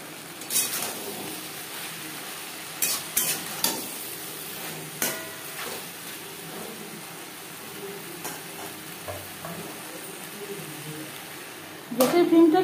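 Ridge gourd frying with onion, salt and turmeric in a pan gives a steady low sizzle, with scattered stirring scrapes and clinks of a spoon against the pan and a louder clatter near the end.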